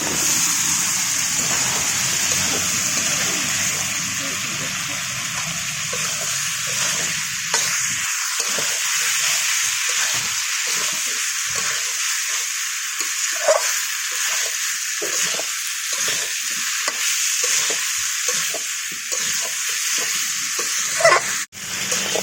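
Boiled potatoes fry in oil with a well-cooked spice masala, a steady crackling sizzle running throughout under repeated scraping stirs of a spatula, fairly close and loud, with no talking.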